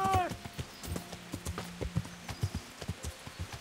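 Horse hooves clip-clop steadily at a walking pace in the medieval role-playing game Kingdom Come: Deliverance, with a short whinny at the start and a faint voice beneath.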